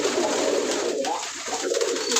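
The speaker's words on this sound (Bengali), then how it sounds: "এটা একটা বাচ্চা কবুতর" Close, continuous murmuring coos from fancy coloured pigeons kept on a rooftop, a low warbling throb with no speech.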